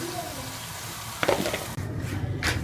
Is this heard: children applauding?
no